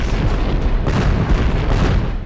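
Film explosions in a dense, loud barrage of booming blasts and bursts that rumble continuously with several sharper hits.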